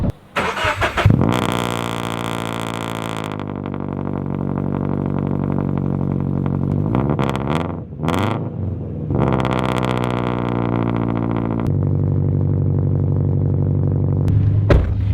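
A Subaru BRZ with a loud single-exit exhaust cold-starts, cranking and firing up, then settles into a loud, rumbling idle with throaty exhaust, a few blips of revving partway through, no talking.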